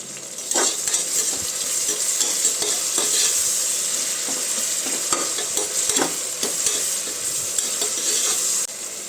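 Chicken biryani ingredients frying and being stirred in a pressure cooker, a steady close sizzle with repeated scraping stir strokes running throughout, no voices.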